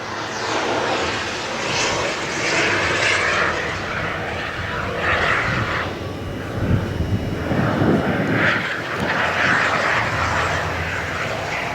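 A small homebuilt aircraft, registration NC13PH and said to have a Volkswagen engine, drones steadily in a hangar setting. The fluctuating engine roar continues throughout with some wind buffeting and no speech.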